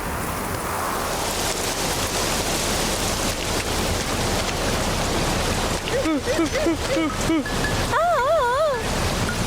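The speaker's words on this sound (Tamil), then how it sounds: "மழை ரொம்ப அதிகமா பெய்யுது" Heavy cartoon rain pours as a loud, steady hiss through the whole stretch, in a Tamil animated comedy about bears and an apple tree, with warbling, wavering cartoon voice-like tones rising over the downpour near the end.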